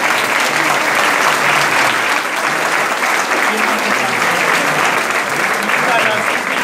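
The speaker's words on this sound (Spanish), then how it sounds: "Aplaudimos fuerte, todos" A hall full of people at a school's golden anniversary celebration claps hard and continuously, a loud, even wall of applause with voices faintly mixed in.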